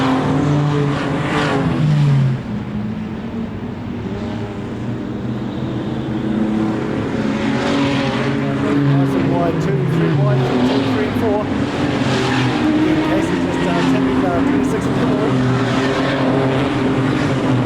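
Superstock race cars roar around an oval track in a Huntly teams invitation race, engines droning loudly and continuously with cars passing close through the turns, under a commentator's steady race call.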